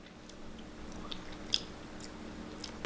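A small piece of raw avocado seed being chewed: faint, dry crunching bites with soft squishy mastication, close to the mouth and with no talking.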